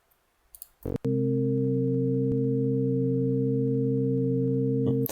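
A steady additive-synthesis tone in Ableton Live built from four stacked partials, the second partial gently wavering in pitch, sustained alone for several seconds after a brief click.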